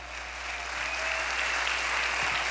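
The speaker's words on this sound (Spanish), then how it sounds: "Ese aplauso debe retumbar para el Señor en esta hora" Sustained applause from a church congregation, a steady dense wash of clapping that swells slightly and holds at an even, fairly loud level throughout.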